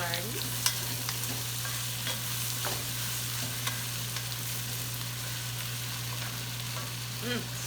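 Chopped mild Italian green peppers, yellow pepper and green chilies fry in a pot, giving a constant soft sizzle with occasional scraping stirs and light clicks, close and even throughout, with no voices.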